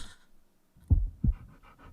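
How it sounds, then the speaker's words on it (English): A big brown dog pants close by, with a quiet opening, then two strong, low, puffing breaths about a third of a second apart, followed by softer rhythmic panting. "Norville, that dog is big and brown, which is the exact opposite of Fred's tiny"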